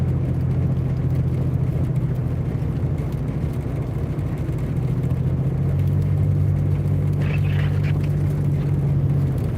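Car driving through Roanoke, Virginia on snowy roads during a state of emergency, a loud steady low interior rumble with a droning engine hum throughout and the heater running.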